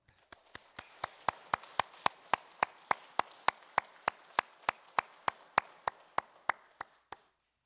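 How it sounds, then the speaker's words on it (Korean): Church congregation claps together in a steady, even beat of about three strokes per second, welcoming returning members back to Sunday worship, with softer scattered applause under the sharp unison claps until it stops. "하나님께 영광의 박수 또 환영의 박수로 맞이하도록 하겠습니다."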